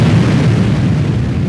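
Booming explosion sound effect for a devil's body bursting apart in an Estonian folk tale, a loud sustained low rumble with a dense roar throughout, no voices.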